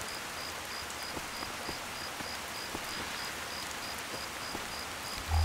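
Steady rain falls at night in the game Fallout 3, a continuous hiss with scattered drip taps and a faint repeating high chirp like an insect, with a brief low thump at the very end.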